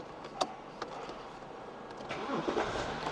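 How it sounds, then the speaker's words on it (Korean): A BMW 5 Series E60 starts up: a few faint clicks, then the starter cranks briefly and the engine catches into a low, quiet idle nearby. "시동을 한번 걸어 볼게요"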